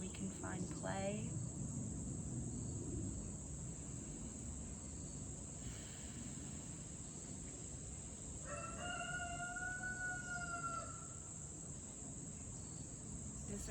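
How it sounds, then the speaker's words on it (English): Roosters crow in the background of a yoga class setting, a faint rising call early on and a clearer, sustained harmonic crow midway, over a steady bed of insect chirring and soft room noise. "Disregard the roosters in my background."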